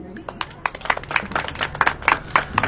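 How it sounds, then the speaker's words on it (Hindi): A church congregation claps hands together, a dense run of sharp overlapping claps building in loudness over a steady indoor murmur. "ताली बजाइए।"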